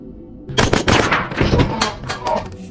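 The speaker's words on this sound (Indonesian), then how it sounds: "terjadi aksi tembak-tembakan dalam kegelapan" A burst of rapid film gunfire in a dark shootout, several sharp loud shots in quick irregular succession, close and dramatic, with no speech.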